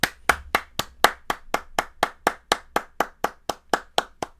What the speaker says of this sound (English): Chat, round of applause, please, please.